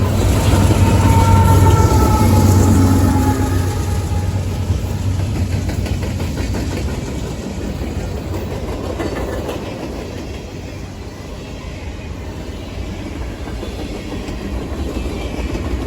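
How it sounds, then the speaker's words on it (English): A Norfolk Southern freight train powered by AC44C6M locomotives roars past close by, a loud engine drone that fades slightly as rail cars clatter along in a steady rhythm. "A second AC-44C6M serves as a mid-DPU on 38G, roaring loudly as it works hard to keep the back half of the train moving."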